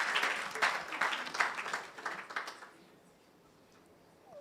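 A live audience at the NSMQ 2023 national quiz championship launch bursts into lively applause, which rolls for a couple of seconds, then thins and falls to near-silence.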